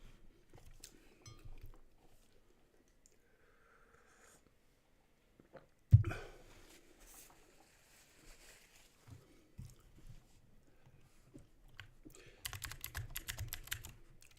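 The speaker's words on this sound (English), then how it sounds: "Why am I typing?" Typing on a computer keyboard, mostly faint, sparse key clicks with long quiet gaps, one sharp thud midway and a denser burst of clattering keystrokes near the end.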